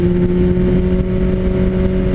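A motorcycle riding through a city at night, with a loud, steady engine drone and constant road and wind rumble throughout and no voices.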